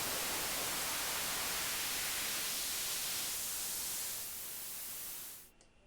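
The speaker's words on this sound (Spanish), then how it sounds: "Fíjense que es señal de ruido blanco sin más" Flat, unfiltered white noise generated in Pure Data hisses steadily and loudly for several seconds, thinning slightly before cutting off abruptly near the end.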